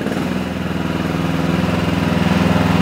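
A Digger King T15 mini loader's small engine runs steadily as the machine is driven around a factory floor, giving a loud, close, throbbing mid-pitched drone with no talk over it.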